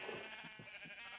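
Sheep in the Minecraft video game bleat faintly in a few short, evenly spaced pulses over a steady background tone.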